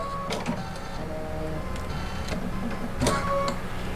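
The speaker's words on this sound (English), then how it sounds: "I'm going to thread my needle." An embroidery machine threading its own needle: a close mechanical whirring with small clicks and ticks that builds in a few short motor bursts, and no talking.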